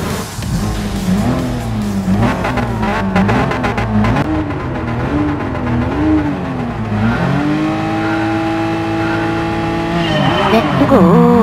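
Porsche 911 GT3 race cars in a GT Sport one-make race on the Nürburgring Grand Prix course pull away from the start, engines revving loud and close with rising, wavering pitch and brief tire squeal.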